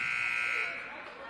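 An end-of-quarter buzzer at a girls and boys high school basketball game gives one loud, steady electronic blare lasting about a second before fading, with an announcer talking underneath.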